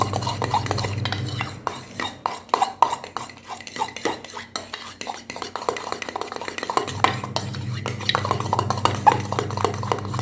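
A spoon stirs a mix of coffee powder, aloe vera gel and egg white in a small bowl, scraping and clinking steadily against the sides up close, with a low hum running through the first part.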